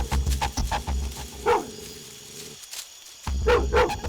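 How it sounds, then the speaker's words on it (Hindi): A dog barks repeatedly over a low rumbling drone, with a short pause in the middle before the barking and rumble resume. "वो भी मुझे ही देखकर किस तरह से भौंक रहा है"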